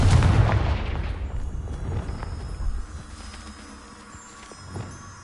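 In the video game Hogwarts Legacy, the Confringo fire blast spell erupts in a loud, close booming burst at the start, then rolls off into a fading rumble and faint crackle.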